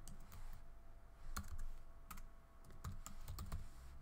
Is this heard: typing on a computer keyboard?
yes